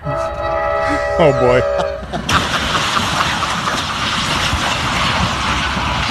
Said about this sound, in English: that's a real train wreck with a car carrier, right?